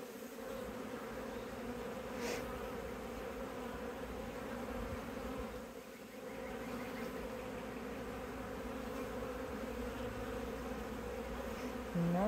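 Honeybees buzz around an open hive during a spring inspection, a dense steady hum that continues throughout, close and even, with no talking.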